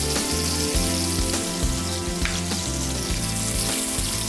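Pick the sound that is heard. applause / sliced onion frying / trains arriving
sliced onion frying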